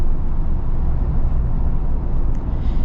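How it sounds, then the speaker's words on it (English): Steady broadband wind rush inside a 2025 Ford Bronco Badlands two-door while driving, a continuous loud roar with low road rumble and no talking. "Now you're gonna get wind noise."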